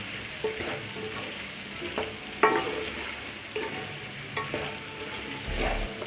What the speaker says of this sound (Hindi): अब मैं इनको मिक्स कर दूँगी अच्छे तरीके से।